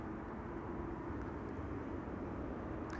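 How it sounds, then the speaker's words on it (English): A KLM Boeing 787-10 Dreamliner at Amsterdam Schiphol Airport makes a steady, broad, low jet-engine roar that stays constant throughout at moderate distance. "This is KLM flight 879 to Bangalore in India. 787-10 Dreamliner."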